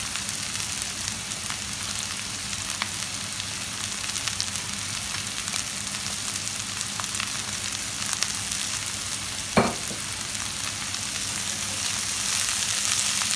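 Chopped beans added to onions sizzle and fry steadily in a pan, a continuous close hiss with a brief clink of stirring partway through.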